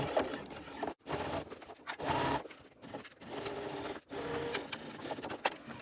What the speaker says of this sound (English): switch over to my zipper foot so that I can get the full 3/8 of an inch seam allowance